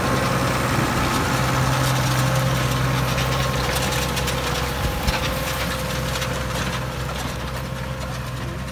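A New Holland T7.235 tractor with over 5,000 hours idles steadily in a loud, continuous low drone with a constant hum close by, heard on its own.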